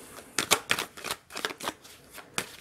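Tarot cards being shuffled close up, a quick run of crisp riffling bursts and soft flutters with short pauses between them, fairly quiet and with no talking.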